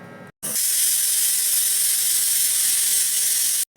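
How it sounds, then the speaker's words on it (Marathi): A pressure cooker whistle blowing off steam while masala khichdi cooks, a loud continuous hiss lasting about three seconds that starts and stops abruptly, with no one talking. "3 शिट्ट्या झालेल्या आहेत।"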